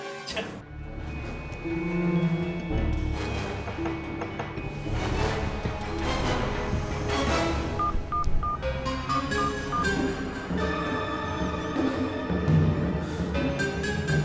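A phone keypad sounds a rapid run of dialing tones, short beeps stepping through different pitches over a busy, cluttered background, moderately close and fairly soft.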